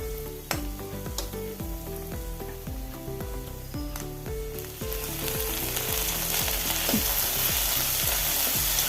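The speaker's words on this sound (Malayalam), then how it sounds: "നല്ലപോലെ ഇളക്കി ഒന്ന് വാടി വരുമ്പം ഒരു വലിയ തക്കാളി അരിഞ്ഞ് ചേർത്ത് കൊടുക്കണം" Onion and tomato fry and get stirred in a pan for North Indian dal curry, giving a loud continuous sizzle with scraping stirs, which grows denser partway through as background music plays.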